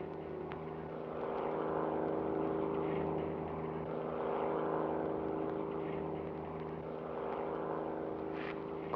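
A helicopter comes in to land, its engine and rotor giving a steady, fairly loud droning hum with a faint low rumble that swells and eases slightly throughout, with no voices.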